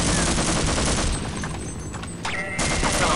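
Gunfire aimed at a helicopter in the Half-Life video game, rapid bursts of automatic shots in a dense rattling stream with a brief lull near the end, loud and close.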